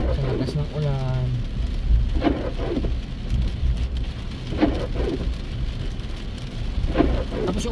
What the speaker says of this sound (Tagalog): Nahugasan tuloy yung sasakyan sa lakas ng ulan.